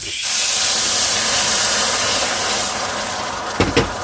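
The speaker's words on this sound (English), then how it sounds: "I'm gonna pour water into the steam, y'all." Loud, steady hissing steam from water poured into a hot skillet fills the whole stretch, with a couple of brief clanks near the end.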